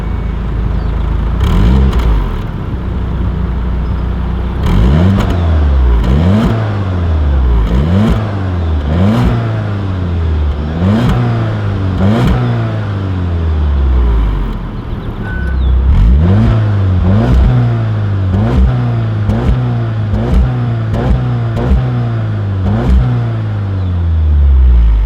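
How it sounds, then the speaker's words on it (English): A 2019 Volkswagen Golf R MK7.5 in race mode with its exhaust baffles open revs repeatedly, loud and close, in sharp rising blips that fall back to a burbling idle between pulls, about a dozen times in a row. "when you have it in sport mode, you actually do have the baffles do open up, and it gives you a little bit more aggressive exhaust note"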